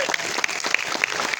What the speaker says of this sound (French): Alors, applaudissez-la encore bien fort.